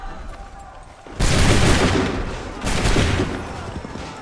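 Soldiers fire musket volleys in Assassin's Creed 3: two loud, crackling fusillades, the first a sharp burst sustained about a second and a half, the second following shortly after, with rumbling tails.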